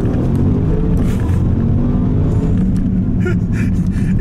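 A 2021 Bentley Bentayga luxury crossover accelerating, with a loud, steady low engine rumble and road noise sustained from start to finish.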